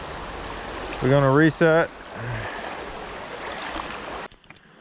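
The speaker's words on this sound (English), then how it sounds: "I'm sitting next to a moving creek under a bridge with cars rolling over it" A moving creek under a bridge with cars rolling overhead keeps up a steady broadband rush of flowing water beneath a man's brief speech, fading out at the end.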